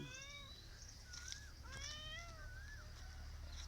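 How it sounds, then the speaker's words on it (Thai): A cat meows repeatedly in a backyard garden, a series of high drawn-out calls rising and falling, fairly faint and slightly distant, with no talking. "อันนี้แมว ร้องได้ทั้งวัน"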